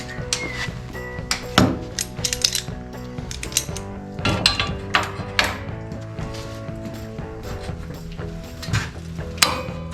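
Metal parts for a custom lawn tractor brush guard are clamped together, with repeated close ratcheting clicks, clanks and metallic knocks that come in irregular bursts and have no talk over them.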